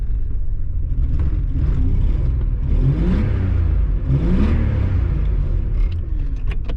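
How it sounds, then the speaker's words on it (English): A neglected Nissan R31 TI's engine revs with a low-speed misfire, a loud, rough rumble that rises and falls in uneven surges and stumbles, heard close from inside the car. "Still got a misfire down low."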